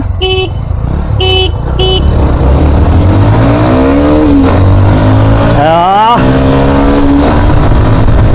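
Xtreme 125R and NS125 motorcycles start a drag race, engines revving loudly and rising in pitch as they pull away, with a few short horn toots at the start and voices talking over the roar.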